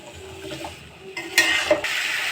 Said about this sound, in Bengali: একসঙ্গে এবার খুব ভালো করে কিছুক্ষণ আমি ওলকপিটা কষিয়ে নেব